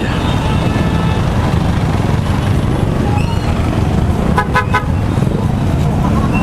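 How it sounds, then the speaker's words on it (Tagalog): Heavy street traffic on Recto in Manila heard from a motorcycle taxi, with a constant low engine and road rumble and a short burst of repeated horn toots near the end. "Sobrang traffic dito sa recto mga paps."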